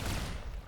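A rapid burst of gunfire from the Rimworld video game, dense and loud across the whole short moment and fading slightly at the end.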